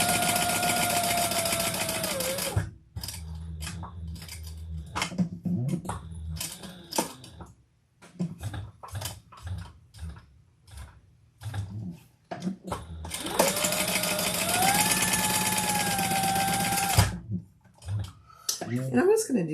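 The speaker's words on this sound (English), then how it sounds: "let's stitch down each side" An electric sewing machine stitches down each side of a handmade shoulder bag in two long, steady runs at the start and end. Talk and handling clatter fill the gap between them.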